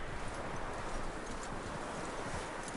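Steady hoofbeats of a video-game horse clip-clopping along at a walk, close and continuous against a dense wash of background noise.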